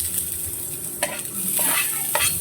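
Onions go into a pan where crushed garlic is frying: a steady hiss of sizzling oil with a few stirring scrapes, close and unbroken, with no voices.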